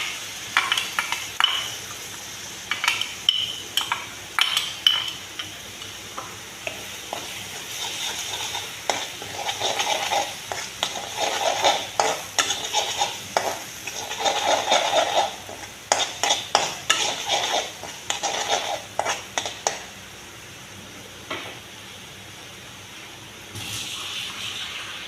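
Spice paste mixed with water is stirred into hot oil in a pan for a Bengali kangla fish curry. A steady sizzle runs under it, with a spoon scraping and clinking against the pan in bursts. Near the end the sound eases to a quieter simmer.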